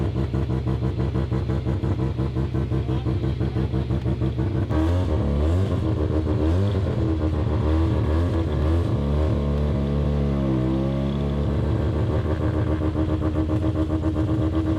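A rebuilt Mazda RX-7 rotary engine idles loudly close by with a choppy, pulsing burble, then revs and pulls away with rising and falling engine pitch, the note steady and strong throughout.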